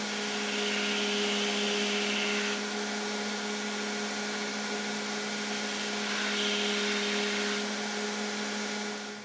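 A belt grinder running a 60 grit belt against a knife blade, a steady motor whine with abrasive hiss swelling in two longer grinding passes, no talking.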